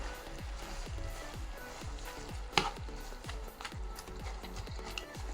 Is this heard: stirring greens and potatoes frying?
yes